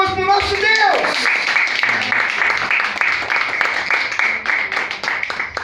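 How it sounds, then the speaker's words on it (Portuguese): Church congregation applauding, dense sustained clapping from many hands filling the room after a spoken line, continuing steadily to the end. "Dê uma salva de palmas para o nosso Deus."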